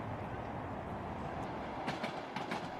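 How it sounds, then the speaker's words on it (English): A Trans-Siberian train travels on rails through Siberia toward Novosibirsk, giving a steady, close rumble of rolling carriages with a few sharper clacks of wheels over rail joints near the end. "Our train is now traveling through Siberia towards Novosibirsk."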